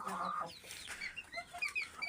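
Aseel chickens clucking and chirping nearby, a busy mix of short calls and higher peeps throughout with no talking.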